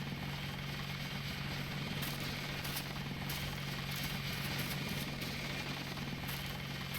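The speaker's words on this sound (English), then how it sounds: "That helicopter is really loud, it hurts my ears." A helicopter in the video game Deus Ex drones steadily with a loud, constant rotor and engine rumble, with no speech over it.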